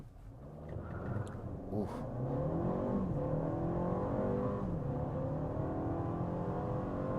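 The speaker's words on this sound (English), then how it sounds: "I'm gonna start off this driving experience with a 0 to 60. I'm already in sport mode." A 2024 Mercedes-Benz GLB 250 in sport mode launches from 0 to 60, its engine revving up through rising pitch sweeps and gear shifts heard from inside the cabin, with one brief exclamation near the start.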